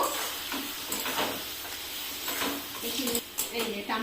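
Turmeric, red chilli powder and cumin fry in a pan with a constant broadband sizzle, broken by irregular stirring scrapes and small bursts of spatter.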